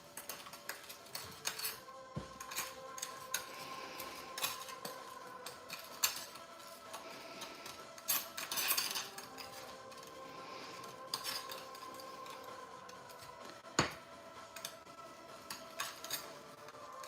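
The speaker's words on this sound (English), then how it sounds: "I know, Karen, you hate the scraping noise. It will be short-lived" Scraping leftover indigo pigment into watercolor binder, likely with a metal tool on glass or a hard surface, making intermittent scratchy scrapes and clinks with scattered sharp ticks, moderately close and fairly quiet, with no speech.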